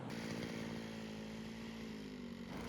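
A Sharp Garuda brush cutter fitted with nylon rope trims garden plants, its small two-stroke engine whining at a steady high pitch, loud and close throughout with no pauses.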